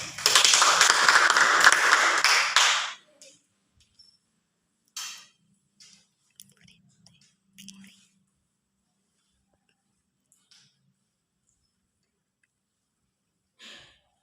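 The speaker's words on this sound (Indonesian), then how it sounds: "tepuk tangan untuk semua" A short, dense burst of hand clapping from children in a classroom fills the first few seconds, followed by near silence with a few faint taps and breaths.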